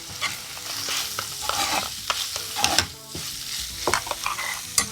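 Onion-tomato masala with ground paste frying in oil for a crab gravy, a steady loud sizzle under repeated scraping strokes of a spoon close by, with no voices.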